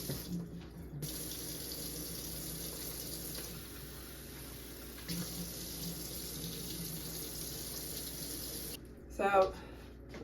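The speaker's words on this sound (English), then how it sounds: "So I rinsed and drained the beans right here in the can." Tap water runs steadily into a sink while canned black beans are rinsed and drained in the can, a soft continuous splashing that cuts out briefly and ends with a short clatter.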